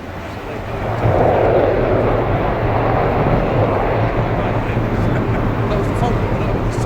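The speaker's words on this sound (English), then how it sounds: "That was the Vulcan, wasn't it?" Avro Vulcan bomber flying past at the Bournemouth Air Festival 2015, a loud continuous broad roar holding steady for several seconds, with crowd voices and talk underneath.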